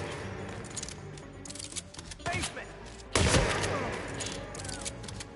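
Gunfire in a chaotic video game, sharp bursts of shots and rapid volleys cracking out amid ambient noise, with a loud blast near the middle followed by continued clatter.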